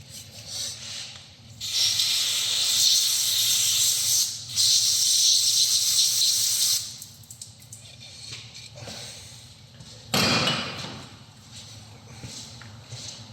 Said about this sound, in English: You need to use a contact cleaner. Cleans contacts.